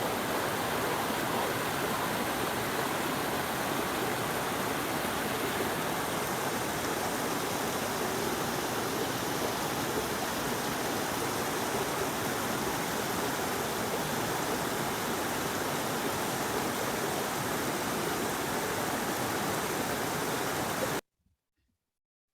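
A river rushing beside the walking trail up to Machu Picchu gives a loud, unbroken roar of churning water, steady for about twenty seconds before it cuts off abruptly.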